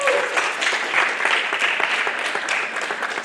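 Audience clapping steadily for a comics challenge entry, a dense crowd applause at moderate level that holds for about three seconds with no talk over it.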